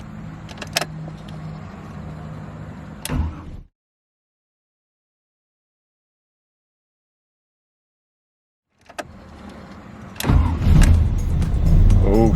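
A turbocharged Buick 3800 V6 swapped into a BMW E46 cranks and fires up, settling into a loud, slightly rough idle after a stretch of total silence and some clicks.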